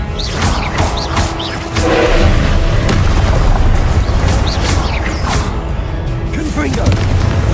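Repeated Confringo fire spells blast in Hogwarts Legacy, loud booming explosions with crackling debris that keep rumbling one after another over a continuous low roar, with occasional voice sounds mixed in.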